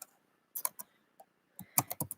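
Keys on a computer keyboard are tapped in short clusters of crisp clicks, a few isolated presses followed by a quicker run, close and quiet.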